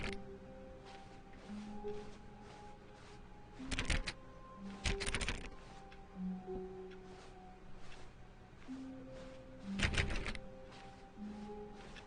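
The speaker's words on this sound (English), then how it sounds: "I love how the clicking is just keyboard noises." Keyboard clicking sounds from the video game The Stanley Parable, several bursts of rapid clacking keys separated by quieter stretches over a low steady hum.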